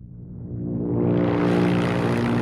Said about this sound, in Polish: Samolot jest gotowy, więc startujemy.